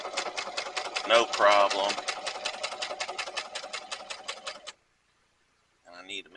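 A sewing machine stitches leather onto a tote bag in a fast, even rhythmic chatter that runs for several seconds, briefly under a spoken voice, then stops before a short burst of stitching resumes.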